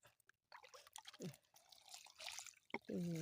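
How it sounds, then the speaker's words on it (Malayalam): Water poured from above into soil packed in a cut-off plastic bottle gives a faint, brief trickle with scattered drips in a quiet setting. "വെള്ളം ഒഴിക്കുക."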